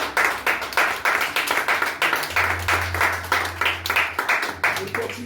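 A church congregation claps in a steady, brisk rhythm, many hands striking together loudly and continuously, with a low sustained organ or keyboard tone joining partway through.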